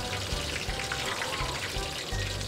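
Tofu sizzles in hot oil at a street food stall in Saigon's District 10, a continuous crackling fry with light bubbling and faint background stall noise.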